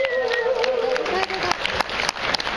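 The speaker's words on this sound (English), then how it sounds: "give her a big round of applause" An audience at a voice acting panel claps to welcome a guest. A voice is heard briefly at the start, then scattered, distinct claps continue at moderate loudness.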